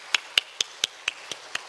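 Clapping in praise at a church's autumn special dawn prayer meeting: seven sharp, evenly spaced claps in a slow, steady rhythm, close and clear over a quiet background.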